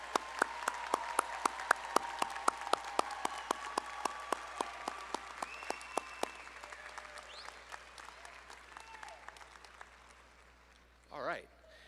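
Applause from a large crowd at a university commencement for graduating bachelor's students, dense clapping at first that gradually thins and fades over several seconds, with a brief voice near the end.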